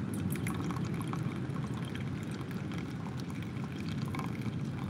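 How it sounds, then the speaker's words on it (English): Water poured from a kettle into a Munieq Tetra coffee dripper on a beach, a continuous trickling pour heard alone over a steady outdoor background hiss. "just put the rest of the water in there."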